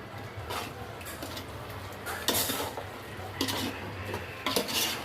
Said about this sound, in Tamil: இப்போ இதை வச்சு ஒரு கிளறி விட்டுடலாம்.